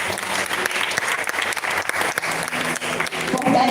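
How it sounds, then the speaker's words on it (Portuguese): A church congregation claps together in praise during a service, dense and lively applause that holds steady throughout, with faint voices mixed in underneath. "aplauda o Senhor"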